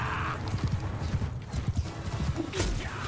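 Galloping horse hooves thud in rapid, irregular clip-clop beats during a chaotic battle in Mount & Blade II: Bannerlord, loud and close, with a brief whinny near the end.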